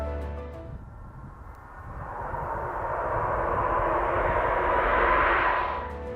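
Su-34 fighter jet engine roaring as it passes, a broad rushing jet noise that swells steadily louder and higher over several seconds before starting to fade.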